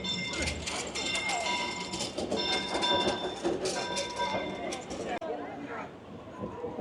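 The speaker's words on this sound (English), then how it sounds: "Train's coming through." A Disneyland train rumbles and clatters past nearby with rhythmic clicking and squealing wheels, while people chatter in the background.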